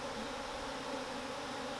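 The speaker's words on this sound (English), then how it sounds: "for a 4-frame nuke, that's a ton of bees" Angry honey bees from a small four-frame nucleus colony buzz in a dense, continuous drone, close and steady, with no voices.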